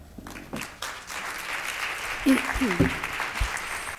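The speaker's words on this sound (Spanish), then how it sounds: "un saludo y un aplauso para Carmen" Scattered applause from an audience at an autism conference in Madrid greets Carmen, uneven and fairly soft, with a few murmuring voices and sounds mixed in.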